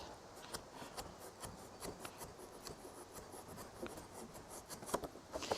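A sharp knife cuts along a seam of material while a no-dig garden bed is built, giving a faint, steady scraping rasp dotted with small clicks, with no talking.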